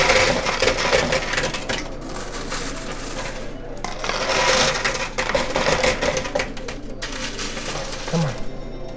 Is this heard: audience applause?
no